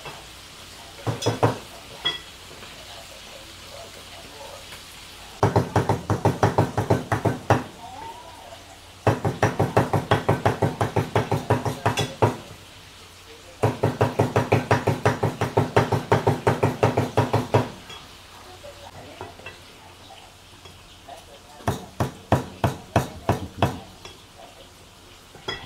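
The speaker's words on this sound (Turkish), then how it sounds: "Yarısını bu tencerede pişiriyor şu anda yağda." Snake pieces fry in oil in a pot, a steady sizzle broken by repeated bursts of rapid knocking and clattering against the cookware, the bursts coming in several clusters of a few seconds each.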